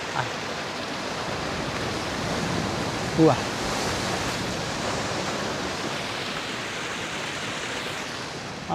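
Ocean waves surge and crash at Figure 8 Pools, a continuous roaring wash of surf filling the scene, with brief voices of hikers nearby.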